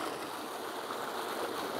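Water flowing steadily along an acequia irrigation ditch in Jemez, a continuous close rushing and burbling wash with no pauses.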